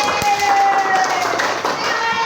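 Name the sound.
classroom applause for a student group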